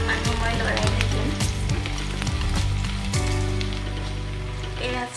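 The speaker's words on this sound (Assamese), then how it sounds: "এতিয়া সৰু সৰুকৈ কাটি থোৱা পিঁয়াজখিনি দি দিম।" Chopped onions frying in a pan for a chole paneer dish give a loud, steady sizzle with crackling bursts, close up, while background music plays underneath.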